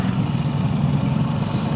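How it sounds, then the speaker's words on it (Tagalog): A motor scooter engine runs steadily nearby with a loud, even low rumble that holds without pause. "Malakas ang makina"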